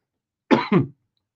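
Two quick, close coughs, or a throat-clearing double hack, in otherwise silent surroundings, each burst short and dry.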